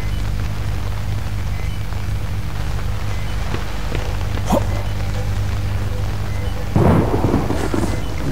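Thunder rumbles in the horror game Outlast, a continuous loud storm with low rolling booms and rain, swelling into a heavier crack near the end, with no talking.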